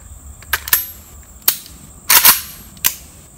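A PSA AK-P pistol fired through a Legion USA muzzle brake, several sharp loud close reports in an irregular sequence, including a quick double shot, with silence between.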